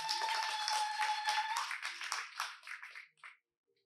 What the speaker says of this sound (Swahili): Mchapie Yesu makofi.